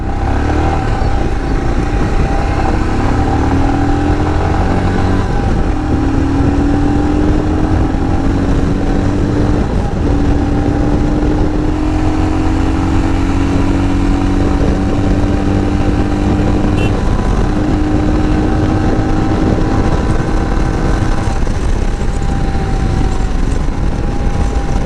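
A 2021 Royal Enfield Himalayan BS6 motorcycle rides at high speed, its loud, steady engine drone wrapped in heavy wind rush, the engine note climbing gradually throughout with no voices.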